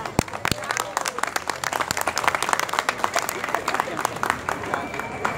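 An audience at a Día del Poeta cultural event in Envigado applauds after a poetry recital. Dense, crisp clapping from a crowd fills the room and continues steadily before easing slightly toward the end.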